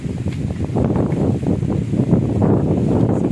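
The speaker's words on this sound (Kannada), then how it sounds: "ಸಿಕ್ಕಾಪಟ್ಟೆ ಗಾಳಿ ಮಾತ್ರ" Strong wind buffets the microphone in a steady, rough roar, with gusts that rise and fall throughout and no other sounds standing out.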